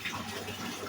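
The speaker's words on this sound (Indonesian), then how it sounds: "ini lagi cuci tangan ya" Tap water runs steadily as hands are washed under it, a soft continuous splashing stream, faint and close, with no talk.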